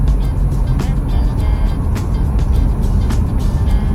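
Electric car speeding up on asphalt, with steady, loud broadband tyre and road roar and wind rush filling the cabin throughout, no voices.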